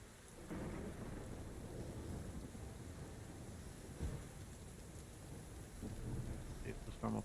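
Thunderstorm in The Witcher 3 with heavy rain falling steadily throughout and low thunder rumbles rolling in, including a sharper crack near the middle, and no speech.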